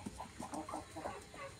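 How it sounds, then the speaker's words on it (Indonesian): Chickens, including nine chicks, cluck softly in a coop, a run of short quiet chirps and clucks close by, with no talk. "Ini anak ayam kita ada 9 ekor"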